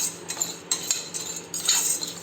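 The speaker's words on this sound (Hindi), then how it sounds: "इनको भी धीमी आंच में भूनना है" Borax and long pepper are dry-roasted in a pan on low flame, with a spoon clinking and scraping against metal in quick, uneven strokes, close by and with no voices.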